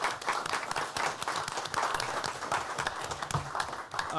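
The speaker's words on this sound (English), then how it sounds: "Ms. Meekis and her team certainly need to be applauded for that" Applause fills a school board meeting room, a moderate crowd clapping steadily at mid distance, dense and even, with no speech over it.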